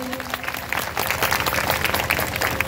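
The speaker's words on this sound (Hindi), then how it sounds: "ताली बजाइए इन माँ बाप के लिए" An audience at a spiritual discourse claps for the parents in a dense, loud, steady round of applause from a large crowd, with a voice faintly underneath at the start.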